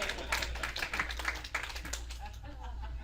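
Women in a comedy club audience in San Diego clap in a brief scattered patter, fairly faint under a voice and room hum.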